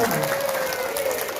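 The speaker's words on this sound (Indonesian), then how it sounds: "Tepuk tangan buat kita semua." Brief applause from an audience at a motivational talk in a hotel, a dense burst of clapping with a voice audible in the crowd.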